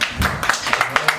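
Brief scattered clapping from a small audience at a stand-up comedy show, a few rhythmic hand claps over a low room murmur.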